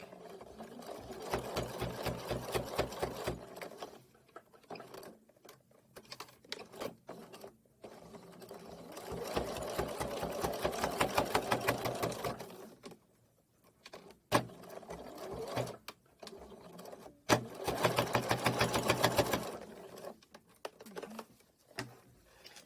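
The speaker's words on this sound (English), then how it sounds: "Be patient with your machine as it's sewing through a lot of layers of fabric." A domestic sewing machine stitching slowly through many thick layers of fabric for an embroidered basket: several steady bursts of rapid mechanical chatter, separated by short pauses, close and fairly loud.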